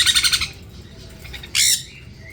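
Baby parrot chicks, such as sun conure or cockatiel, squawk while being hand-fed by tube, giving a loud rapid burst of pulsing squawks, a quieter stretch, then another short sharp squawk, close up.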